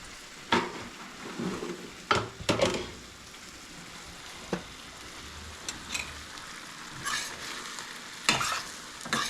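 Beef afritada sizzles in a pan while a utensil stirs it, scraping and clacking against the metal in irregular strokes over the steady frying hiss.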